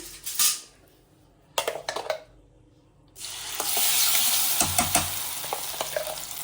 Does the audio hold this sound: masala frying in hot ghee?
yes